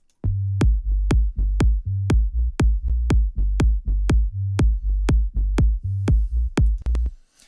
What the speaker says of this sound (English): So we play this low end together so you can hear what it sounds like.